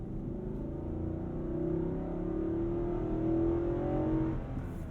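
A 2022 Nissan Armada V8 engine revs under full acceleration, a steady rising engine drone heard from inside the cabin, climbing in pitch with the automatic gearbox and no talk over it.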